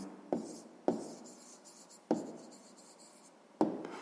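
A pen or pencil taps and scratches down an answer to a sixth-grade math exercise, with four sharp strokes spaced irregularly over a quiet room.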